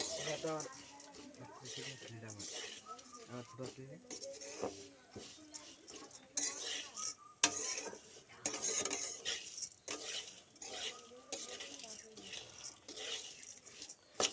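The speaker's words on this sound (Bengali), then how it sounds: "চলো আমি চিরাটা ভেজে নিচ্ছি" Flattened rice (chira) fried and stirred in a pan: irregular metal scraping and clinks from the spatula against the pan over a faint sizzle, while someone talks throughout.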